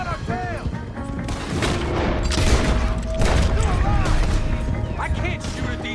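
Gunfire in Red Dead Redemption, with sustained volleys of overlapping shots, crashes and booms in a dense, loud barrage, while voices shout over the fighting.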